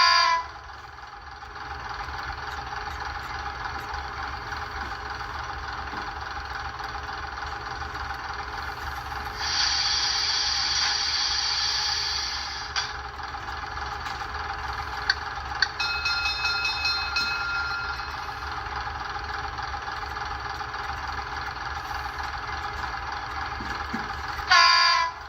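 A KR Models BR 10100 Fell model locomotive gives a steady engine drone with a brighter horn-like tone partway through, continuous and moderately loud with no talking.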